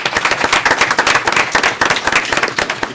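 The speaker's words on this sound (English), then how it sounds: "let's give them a big round of applause." A crowd at a city council meeting applauding, dense overlapping claps filling the whole stretch at a steady loud level.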